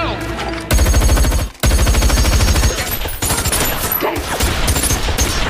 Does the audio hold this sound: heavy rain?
no